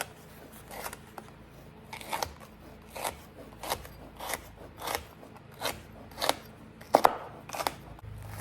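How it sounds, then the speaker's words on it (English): Knife chopping frozen food that was briefly defrosted in a microwave, a steady series of about a dozen crisp, fairly close cuts in a loose rhythm, heard on their own without talk. "we're just going to chop them up real quickly"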